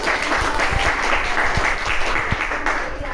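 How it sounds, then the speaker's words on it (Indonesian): Classroom applause from a group of students after a presentation, steady dense clapping filling the whole stretch with faint voices mixed in. "tepuk tangan dulu"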